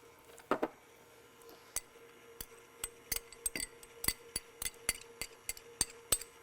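A spoon clinks repeatedly against a bowl while buttermilk is stirred with lemon juice and zest, a quick run of sharp, close taps that grows denser and keeps an even rhythm, with no talking.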